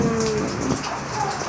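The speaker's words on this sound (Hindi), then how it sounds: "तुरंत इतना तेज बारिश आ गया, बहुत तेज है" Heavy, sudden downpour pours down steadily, a dense continuous hiss of rain striking surfaces close by, loud and unbroken throughout with no voices.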